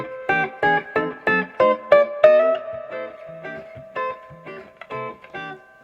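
Vintage electric guitar, a 1965 Fender Stratocaster, played through an amp with heavy reverb: a run of plucked notes and chords, each decaying into a soft reverberant tail, fairly loud and close with no voices.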